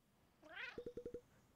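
A cartoon cat in the video game Cat Quest II gives a quick rising meow and then a rapid string of five short chirps, all faint and with no voices.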